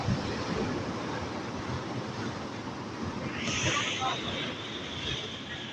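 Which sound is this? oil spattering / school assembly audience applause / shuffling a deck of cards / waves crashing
waves crashing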